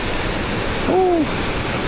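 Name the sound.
Tad Kong waterfall in rainy season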